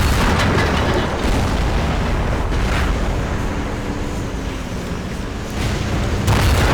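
Booming tank cannon shots in a tank video game ring out over a continuous loud rumble, with heavy blasts near the start and again at the end and no voices.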